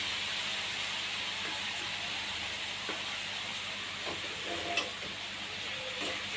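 Hallo vegetable curry frying and being stirred in a pan, a continuous sizzling hiss punctuated by a few light spoon scrapes and taps, heard close with no one speaking.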